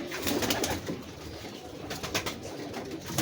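Pigeons coo steadily over a dense, noisy background, the soft low calls overlapping without pause and heard at moderate distance, with no voices.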